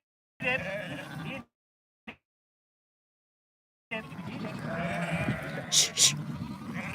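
Sheep bleat on a sheep farm in two bursts separated by near silence, the bleats mixed with someone talking and some sharp noises, heard at close to moderate distance.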